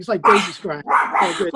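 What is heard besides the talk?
dogs barking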